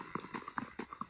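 A person knocks on a wall in the evening, a string of soft, hollow raps in an uneven rhythm, faint and slightly muffled as if from the next room, with no talk over it.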